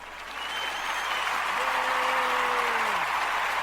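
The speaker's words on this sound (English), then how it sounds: "Where's our round of applause button?" A recorded applause effect triggered from a button plays as a steady wash of crowd clapping that swells in and holds, with a voice speaking briefly over it.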